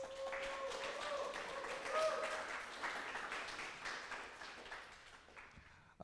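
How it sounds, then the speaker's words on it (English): Audience members clap after an origami storytelling performance at a university event, a moderately quiet, spread-out applause with a voice speaking over the start before the clapping tapers off. "round of applause."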